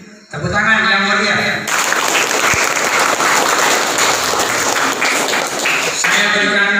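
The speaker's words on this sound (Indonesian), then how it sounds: "Tepuk tangan yang mulia." An audience claps at a Scout (Pramuka) training session at a junior high school, with a dense burst of applause filling most of the stretch. Talk can be heard before and after it.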